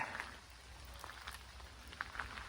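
Soft, steady rain patter in a forest at Itasca State Park, with a few sharper drips landing nearby, quiet and distant-sounding, no talking.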